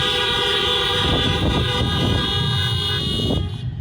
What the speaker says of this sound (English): Honk your horn for them.